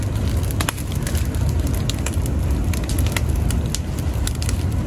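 A large bonfire by the sea roars steadily and loud, with scattered sharp crackles and pops throughout and no voices.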